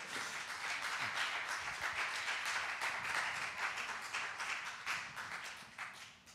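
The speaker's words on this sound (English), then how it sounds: "Would you clap your hands to the Lord?" A church congregation claps along during a sermon, a faint but steady wash of many hands clapping together with no one speaking over it.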